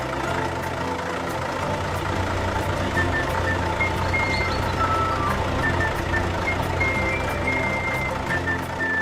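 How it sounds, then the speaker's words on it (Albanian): Steady reversing beeps from a big cartoon dump truck loaded with molten asphalt, repeating evenly over a low, continuous engine rumble, with no talking. "Një kamion I madh është ngarkuar me asfalt të shkrirë."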